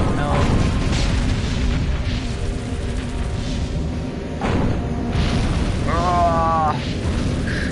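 Missile explosions in a video game, a run of deep booming bursts at close range over continuous rumbling battle noise, with a whining tonal sweep near the end and someone talking throughout.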